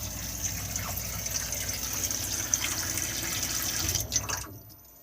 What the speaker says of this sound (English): come to the sink, turn the tap on, the green light will appear just to let you know the water pump is in operation.